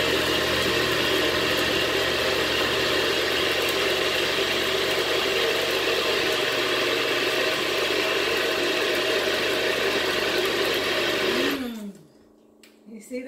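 A blender whirs steadily at high speed through a frozen fruit smoothie, loud and constant for about eleven seconds, then spins down and stops.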